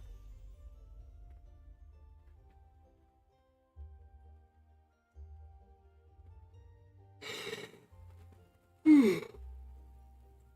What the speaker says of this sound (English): Excuse my yawns.